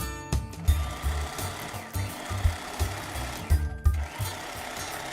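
Sewing machine stitching a fabric side seam on a basic girl's dress, rapid rhythmic needle chatter in uneven bursts with brief pauses, close and loud, no talking.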